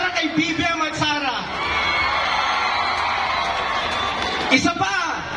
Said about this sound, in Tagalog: gusto ko munang makarinig ng malakas na palakpakan at sigawan para kay BBM at Sara